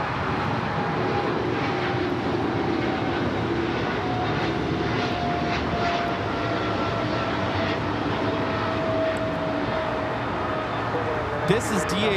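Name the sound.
Polar Air Cargo Boeing 777 freighter taking off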